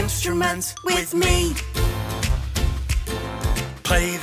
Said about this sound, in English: Yes, this sound is the guitar.